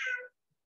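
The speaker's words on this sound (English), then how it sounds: "And that's my cat." A house cat gives a single short, clear meow close by, followed by silence.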